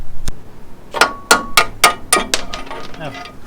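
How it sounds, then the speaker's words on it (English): Hammer striking a punch to drive out rubber subframe bushings on a Unimog U1300L, a rapid series of about seven sharp metallic clangs, close and loud, with brief ringing. "So we're just going to use a punch and a hammer,"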